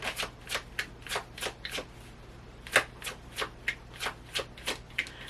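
Tarot cards being shuffled in a steady run of about a dozen crisp riffling bursts, close and fairly quiet, with a low steady hum underneath and no talking.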